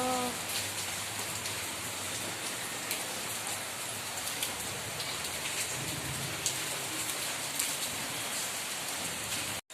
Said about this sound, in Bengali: তো বাইরে পড়ছে প্রচুর বৃষ্টি